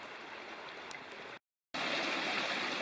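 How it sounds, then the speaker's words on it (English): Small waterfalls and cascades on a forested wilderness trail climbing toward a ridge give a steady, dense rush of falling water, broken by a brief total silence midway before the rushing resumes slightly louder. "there's lots of these small waterfalls or cascades"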